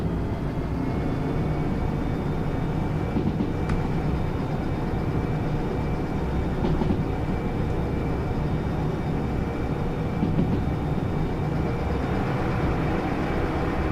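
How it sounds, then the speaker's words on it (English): Steady locomotive rumble and rail noise from a train in the Derail Valley railway game, a continuous loud broadband drone holding evenly throughout with faint tonal hum and occasional clicks, no talk. "I put more power into the locomotive and we're actually slowing down right now."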